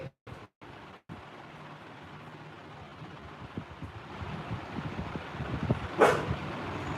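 A pet dog indoors gives a few soft, muffled barks at a distance in a room with background noise and a brief sharp noise near the end.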